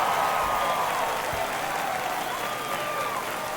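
A stadium crowd in MLB The Show 24 roars after a home run, a loud, sustained cheer with steady applause that slowly eases off.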